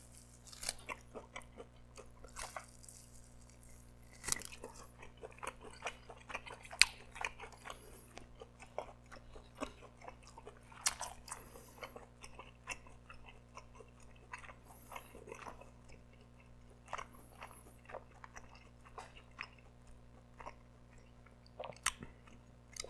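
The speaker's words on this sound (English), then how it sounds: "more chews than I would have liked to have taken on that first couple bites" Close, steady chewing and biting of lamb chops, with soft wet crunches and squishy chews repeating for a long stretch over a faint constant hum, with no talking.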